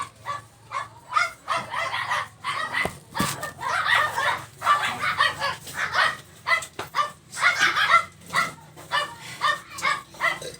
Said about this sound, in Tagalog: Yung kasing aso nila ayun no.